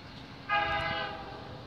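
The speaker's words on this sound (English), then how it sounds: "looks like the CN train is honking his horn while he's going through 10th line" An eastbound CN freight train sounds its horn at a crossing near Scotch Block in Halton Hills, a single sustained chord-like blast heard from a distance over a faint rumble.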